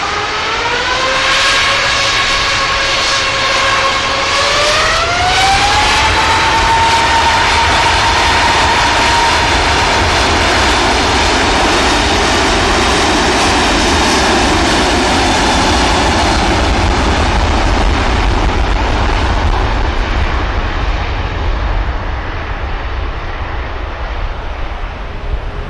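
A Qatar Airways airliner at Manchester Airport roars loud and close, its engine whine rising in pitch and then holding as a broad continuous rumble that slowly fades toward the end.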